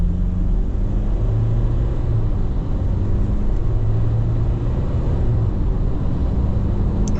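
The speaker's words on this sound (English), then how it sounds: "40 kilometers an hour, full throttle." A 2025 GWM Cannon XSR 2.4T ute at full throttle from 40 km/h, heard from inside the cabin as a constant low engine drone and road rumble, steady and fairly loud with no voices.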